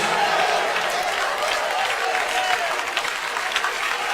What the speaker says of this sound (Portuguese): Pode glorificar e dar aplausos para Ele.